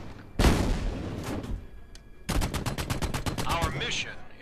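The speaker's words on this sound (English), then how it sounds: "Pull your other trigger to fire the coaxial." A tank's coaxial machine gun firing in the VR war game Medal of Honor: Above and Beyond. One heavy blast is followed by a rapid, loud burst of evenly spaced shots.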